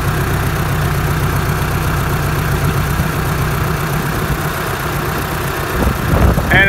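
International tractor engine running near a barn, a steady low rumble and chug held at an even level throughout, with a louder rise in the last second.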